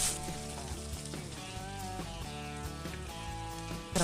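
Chopped onions sizzle steadily in hot oil with cumin seeds, a continuous close frying hiss with music playing over it throughout.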